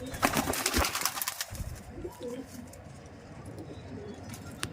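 A Kasni Teddy pigeon gives soft, low coos close by, repeated through the moment, while people talk over and around the calls.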